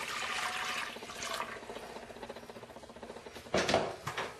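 Water is poured into a wide cooking pot, a soft trickling and splashing that stays faint through most of the stretch, then a louder, fuller pour near the end.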